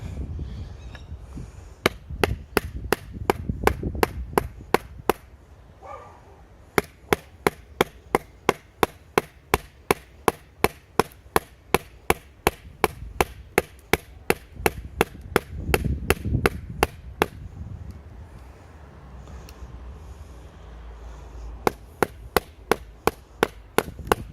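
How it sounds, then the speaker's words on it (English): A Buck 480 clone knife strikes wood over and over in a fast, steady rhythm of sharp cracking chops, with brief pauses between bursts and faint rustling underneath. "You can actually hear the wood cracking, or that's just the knife breaking."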